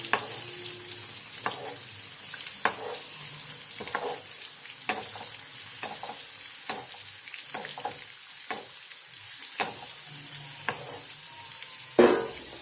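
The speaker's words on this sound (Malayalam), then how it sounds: "അതുപോലെ നമുക്കും വറുപ്പ് നോക്കാം" Fish fries in hot oil in a pot, giving a continuous crackling sizzle broken by regular sharp clinks and scrapes of a utensil ladling oil and stirring.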